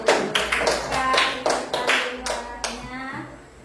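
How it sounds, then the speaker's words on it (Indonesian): A group of children in a music lesson claps hands in a brisk, uneven burst of about a dozen claps that fades toward the end. "Ya, tepuk tangan dulu."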